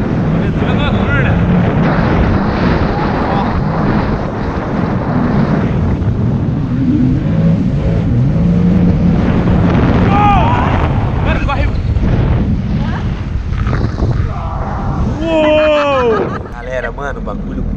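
A motorboat speeds across the open sea at night, its engine roar blended with heavy wind buffeting the microphone, loud and continuous while people shout and talk over it.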